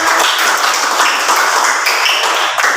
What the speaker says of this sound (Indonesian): Ibu minta aplaus tepuk tangan kalian semua.